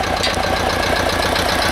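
A diesel tractor engine idles nearby with a steady, low knocking chug that stays constant throughout.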